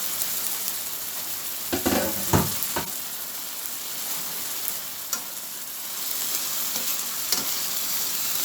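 Tomatoes and onions cooking in a pan, a steady soft sizzle broken by a few sharp clicks and stirring knocks, close and with no voices.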